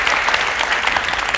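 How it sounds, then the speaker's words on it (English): Dense, steady clapping from an audience at a speaking masterclass fills the whole moment, loud and continuous without a break. "Give yourselves a round of applause."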